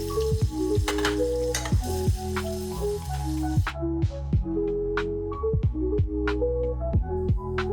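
Skinless fish fillets sear in hot butter in a pan, a steady close sizzle broken by repeated sharp spoon clinks and taps as butter is basted over them, with no voices.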